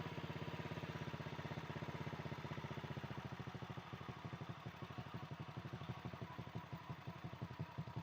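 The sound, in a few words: Honda Supra X motorcycle engine revving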